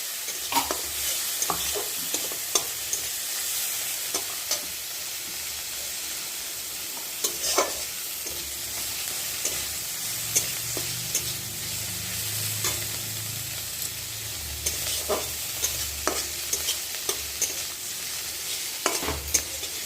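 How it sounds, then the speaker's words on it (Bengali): Onion and tomato are stir-fried in a pan, with a steady close sizzle and repeated scraping stirs and utensil taps running throughout. "পেঁয়াজ আর টমেটোটা দিয়ে ভালো করে কষে নেবো"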